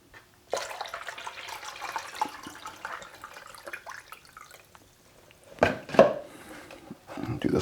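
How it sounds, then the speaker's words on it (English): Water pours in a steady stream into a bucket while mixing plaster for a mold, then stops; after a pause a few louder splashes and clunks follow, close by. "Pour in some water."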